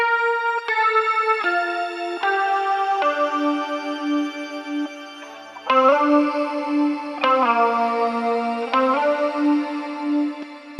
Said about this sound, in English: how nice the panned shimmer verb was on this guitar